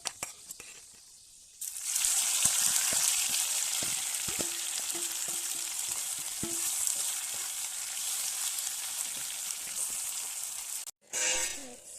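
Okra frying in a wok with onion and garlic: a loud, steady sizzle starts suddenly after a quiet opening and runs for about nine seconds, with light stirring clicks, then cuts off briefly before resuming.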